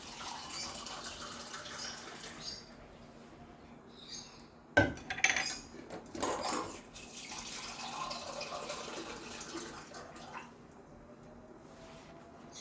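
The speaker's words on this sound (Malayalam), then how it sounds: "കുറച്ച് വെള്ളം ഒഴിച്ച് വെക്കാം." Water is poured into a pot of mutton soup (shurba), a short splashing burst with a metallic clink, then a softer trickle and faint kitchen clatter in an otherwise quiet room.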